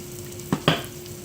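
Loaded potato cakes fry in a pan under a faint, steady sizzle, with two quick louder clinks or scrapes close together near the middle.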